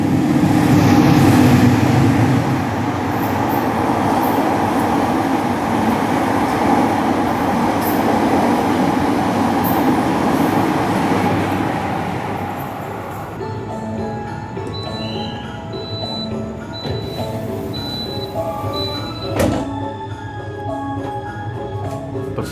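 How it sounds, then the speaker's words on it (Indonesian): The Gajayana express train rumbles past loudly and steadily in Indonesia, then the roar drops away to a quieter hum with faint clicks and a brief thump near the end. "Ini akan disusul juga oleh kereta api Gajayana."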